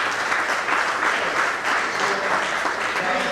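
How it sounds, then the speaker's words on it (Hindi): Continuous audience applause, an even, dense wash of many hands clapping at steady volume with no voices over it. "Liberal with your applause."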